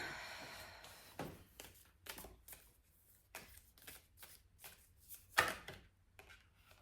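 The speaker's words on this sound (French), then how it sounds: "donc on passe directement au tirage des cartes et on va voir qu'est-ce que ça va sortir pour aujourd'hui" Close, quiet riffle shuffles of a deck of cards for a card reading, a series of soft rapid flutters and taps repeating in quick bursts with no talk.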